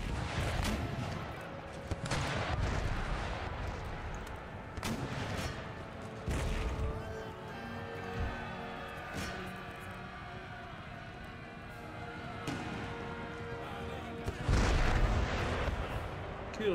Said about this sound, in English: My foot artillery is going to be in position to provide yet more shots.